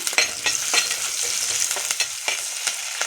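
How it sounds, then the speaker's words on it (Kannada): Curry leaves fry in a pan for a Mangalore-style mackerel dish, giving a steady close crackling sizzle with repeated scraping stirs and sharp pops throughout. "ಈಗ ನಾನು ಸ್ವಲ್ಪ ಕರಿಬೇವು ಸೊಪ್ಪು ಸಾಕ್ತಾ ಇದ್ದೇನೆ"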